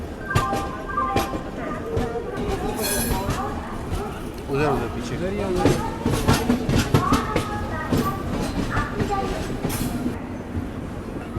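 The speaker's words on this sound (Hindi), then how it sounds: "अपना फाइनली अराइवल हो रहा है भुवनेश्वर रेलवे स्टेशन पे" The Howrah–Puri Dhauli Express rolls into Bhubaneswar railway station, its wheels clattering and carriages rumbling steadily under ongoing talk from passengers on board.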